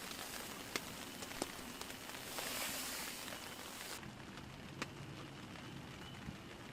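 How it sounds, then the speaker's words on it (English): Light spring rain patters steadily on the fabric of a hot tent during cold, wet solo camping, with a soft continuous hiss and occasional sharper drops. "it sounds like the rain's let up a little bit outside"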